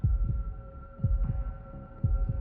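A deep, muffled heartbeat thumps in steady double pulses, about one beat per second, over a low continuous hum, with no voices.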